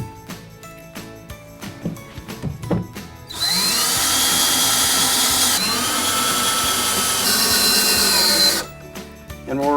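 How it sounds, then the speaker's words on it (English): A power drill drives 1-inch number 6 screws into a Carrom foosball table cabinet, preceded by a few seconds of handling clatter; a loud, steady motor whine then runs about five seconds with a brief dip midway before cutting off. "screw it down with 1-inch number 6 screws"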